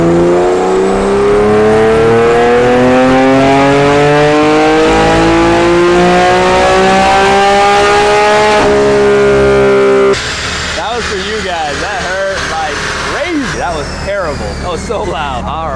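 A modified Chevrolet Corvette C8 makes a dyno pull in 5th gear, its engine roaring loud and steady as the pitch climbs for several seconds before the revs drop and the note breaks up, with people talking over it.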